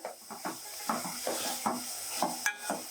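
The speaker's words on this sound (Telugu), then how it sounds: "1 స్పూన్నర అల్లం వెల్లుల్లి పేస్ట్, ఇది కూడా పచ్చివాసన పోయే వరకు వేయించుకుని" Ginger garlic paste sizzles in a pan while a spoon stirs it, scraping in a steady rhythm of about two strokes a second, close by and moderately loud, with one brighter clink of metal near the end.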